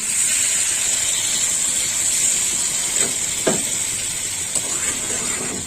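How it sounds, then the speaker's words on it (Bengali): Water poured into a hot pan of vegetarian curry with bori, potato, pumpkin and pointed gourd, producing a loud, steady steaming hiss with a few faint knocks from the pan, near and with no talking. "এবার জল দিয়ে দেবো দিয়ে দিলাম জল"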